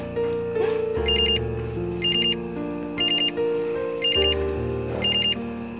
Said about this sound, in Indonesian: Itu telepon dari siapa?